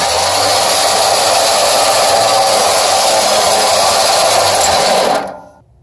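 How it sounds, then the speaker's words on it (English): A Warn heavy-duty recovery winch runs steadily, a loud continuous motor whine and rope spooling that holds for about five seconds before cutting off. "how quickly it repels the rope. And then likewise, how quickly it pulls it back in."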